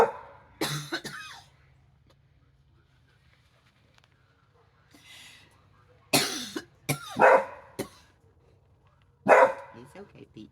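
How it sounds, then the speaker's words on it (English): A dog gives a few sharp barks and coughing, throat-clearing yelps in short bursts separated by quiet gaps, close to the microphone, while a person talks softly nearby. "Y'all just bark and say,"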